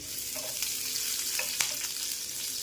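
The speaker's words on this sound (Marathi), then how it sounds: "आपले लसूण आणि मिरची चांगलं परतून झालं आहे।" Green chili and garlic sauté in oil in a pan, giving a steady, close sizzle with soft crackles and a few faint stirring clicks throughout, with no voices.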